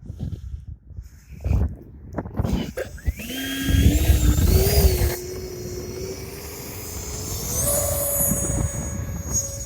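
A radio-controlled jet plane runs up for takeoff, its turbine whine rising from a low hum to a loud, steady roar with climbing tonal pitch, then holding a sustained high scream as it accelerates away.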